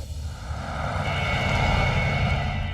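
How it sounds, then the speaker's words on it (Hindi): A car driving fast with a steady, loud engine roar that swells slightly as it goes, close by and continuous, with no voices. "माया धीरे चलाओ ना"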